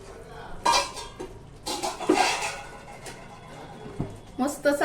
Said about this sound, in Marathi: हा डबा मी घेतलेला आहे स्टीलचा याचं हे झाकण आहे ह्या डब्यामध्ये मी काढून घेते